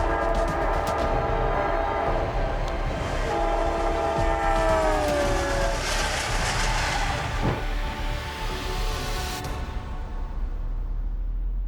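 Amtrak trains rumble past with a loud, steady roar as the horn sounds in long, sustained blasts, then the noise slowly fades.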